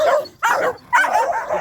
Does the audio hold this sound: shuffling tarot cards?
no